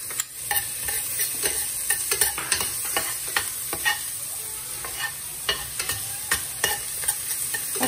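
Onion and garlic sauté in a pan for kiampong, a steady close sizzle with frequent sharp stirring scrapes and clinks of a utensil throughout, no voices.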